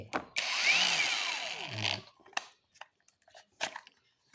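A battery pack goes into a knockoff-brand cordless drill: a short whirring burst comes first, then a series of sharp, close plastic clicks and snaps as the pack is fitted.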